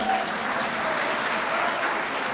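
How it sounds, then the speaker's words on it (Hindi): Sustained applause from a crowd at a Janata Dal (United) party office event marking Bhamashah's birth anniversary, steady and dense clapping throughout with no pauses. "ताली बजाइए"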